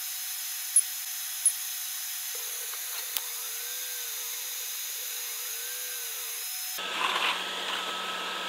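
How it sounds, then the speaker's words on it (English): An Atomstack A20 Pro laser cuts a 1-inch circle in 3mm plywood, with a steady faint whine and a soft arcing tone sweeping through mid-cut, ending in a louder burst of fan or airflow noise. "We're going to cut out a 1-inch circle on this 3mm plywood."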